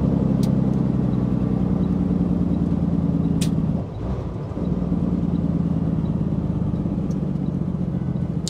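A city bus in a truck-driving video game rumbles along with a steady, droning engine hum, briefly dipping mid-way before resuming, with occasional faint clicks on top.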